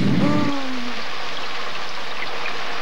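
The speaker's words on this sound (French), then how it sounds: "Tiens, maintenant il pleut." Cartoon rain hisses as a steady, even wash, starting right after a brief voiced tone at the outset and continuing alone at a constant level.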